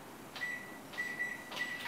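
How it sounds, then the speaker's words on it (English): A kitchen timer being set gives three short, faint electronic beeps, evenly spaced about half a second apart in a quiet room. "I'm setting my timer."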